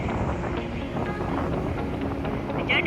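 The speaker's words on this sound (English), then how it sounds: "Pretty windy day here on the beach." Steady wind buffeting the microphone outdoors on a beach, a loud continuous rumble and hiss with no one speaking.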